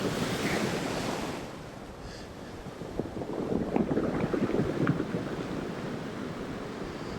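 Rough sea waves churn where the Solway Firth meets the Irish Sea, a continuous near roar of surf and wind that dips briefly and then swells with crashing water.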